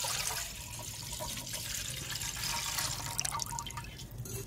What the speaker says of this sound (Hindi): सबसे पहले हम इसमें दूध डालेंगे।